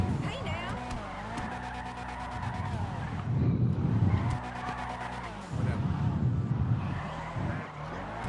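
A car drifts through the streets in GTA Online, its tires screeching in long sustained skids while the engine revs and surges, and someone talks over the noise.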